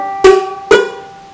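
A ukulele is struck twice with the fretting fingers not pressed down hard, giving two short muted strums that die away quickly.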